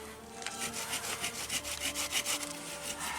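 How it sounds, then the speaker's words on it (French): Steady back-and-forth strokes of a saw cutting through wood, close and fairly loud, with an even rhythmic rasp and no voices. "scie du bois"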